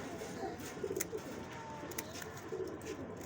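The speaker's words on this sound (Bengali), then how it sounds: "এটাও বাজি দেওয়া কবুতর, গেম খেলা কবুতর" A game pigeon kept for competitive flying gives soft, low coos in a few short bursts, close and fairly quiet, with faint clicks and background noise around it.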